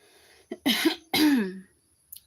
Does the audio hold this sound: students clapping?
no